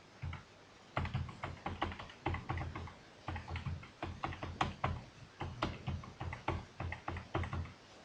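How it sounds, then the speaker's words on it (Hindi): Rapid typing on a computer keyboard, keystrokes clattering in quick bursts with short pauses, close and fairly quiet, no one talking. "मैं यहाँ पे कुछ टाइप कर लेता हूँ।"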